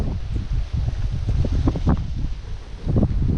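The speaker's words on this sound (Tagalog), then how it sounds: "grabe lakas ang hangin" Steady roar of strong wind buffeting the microphone, with rumbling gusts swelling and easing throughout, no voices.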